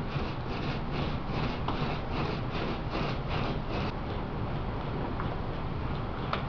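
A 7-inch paint roller cut in half on a 3-inch frame spreads a thin layer of epoxy over a wooden aircraft wing skin, making soft, rhythmic back-and-forth rubbing strokes up close that smooth into a steady swish.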